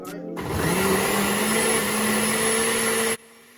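A kitchen blender whirs through a milkshake, a loud, steady motor roar that starts abruptly, holds for about three seconds and then cuts off.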